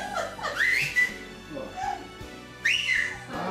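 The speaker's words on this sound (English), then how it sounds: "That's not a farmer's whistle, that's a surveyor's one" A surveyor's whistle blown twice, sharp rising-then-falling whistle calls with a short gap, fairly close, with faint voices in the background.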